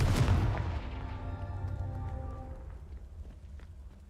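Confringo fire spell blast from the Hogwarts Legacy video game: a loud booming impact up front that rumbles and slowly fades away over several seconds.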